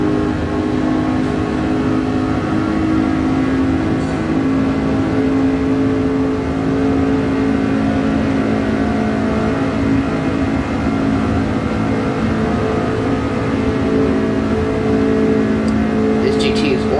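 A GT race car engine in Gran Turismo Sport holds a steady high drone as it accelerates and cruises along a straight, constant and loud throughout with no obvious gear changes, and no voice clearly audible over it.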